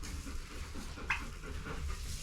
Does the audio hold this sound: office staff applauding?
no